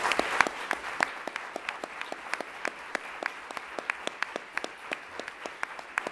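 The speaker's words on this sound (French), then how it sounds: "Merci bien pour ces applaudissements." Audience applause at a conference, a steady patter of many hands clapping at moderate distance with sharp individual claps standing out, continuing throughout without voices.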